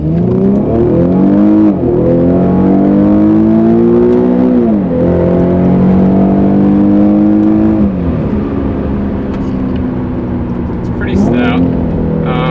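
Infiniti G37x AWD sedan, a 2013 model, accelerating steadily as the engine note climbs and drops through several upshifts, heard from inside the cabin, loud and continuous, with a brief higher whine near the end.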